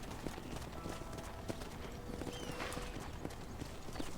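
Horse hooves clip-clop steadily in the Red Dead Redemption video game, a continuous run of hoof beats over background game ambience.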